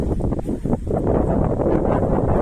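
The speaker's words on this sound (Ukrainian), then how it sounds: "Вітер, звісно, дуже сильний, холодно" Strong, cold wind buffets the microphone in a continuous low rumble beside beehives, gusting slightly louder at moments.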